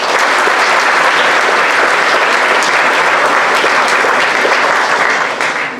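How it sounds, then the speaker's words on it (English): A school awards assembly audience gives loud, sustained applause, dense overlapping claps filling the room for several seconds with no talk, tapering slightly at the end. "So give them a big round of applause."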